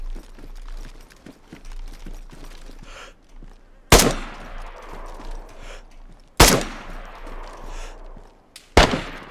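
Gunfire in the survival shooter DayZ on Deer Isle: three sharp, loud single shots spaced a few seconds apart, each with a ringing echo tail, over a quiet background of faint rustling and ticking.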